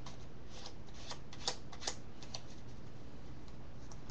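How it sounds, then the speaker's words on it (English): Playing cards are shuffled in a quiet room, a soft continuous riffling with a few sharper clicks, close and fairly faint, no talking. "Give them another shuffle."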